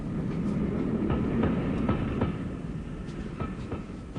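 Train rumble with faint rhythmic clicks of wheels on rail joints, a steady carriage noise at a small seaside town station, staged as a radio drama effect.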